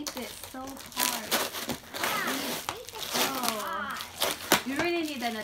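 Plastic toy packaging, heavily taped, is ripped and crinkled open in bursts of tearing and crumpling, mixed with near, frequent children's and adult voices talking over it.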